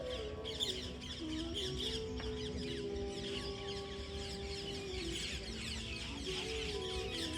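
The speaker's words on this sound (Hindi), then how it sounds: "यहाँ पे जो पक्षी आते हैं तो बहुत सारे पक्षी आते हैं।" Birds calling at Gandhi Ashram in Ahmedabad, a busy outdoor chorus of chirps and clucking cries over a steady ambient hum, at middle distance and without talk.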